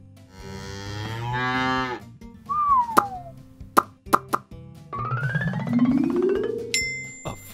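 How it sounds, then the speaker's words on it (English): A cow moos in long, drawn-out calls, loud and close, with short plopping and cartoonish effect sounds between the moos in a children's learning clip. "A cow."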